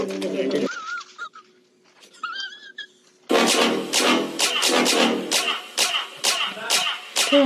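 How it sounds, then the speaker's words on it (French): Soft bird calls and coos sound in a quiet space, then give way to loud, repeated bursts of rustling and fluttering noise. "C'est quoi, c'est des oiseaux"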